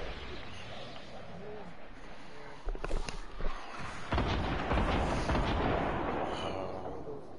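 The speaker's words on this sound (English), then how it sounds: "You guys are only shooting 15 rockets at a time at them" Rocket explosions in the Fortnite video game: a scattered burst of booms around the middle, then a dense, roaring rumble of blasts that stays loud to the end.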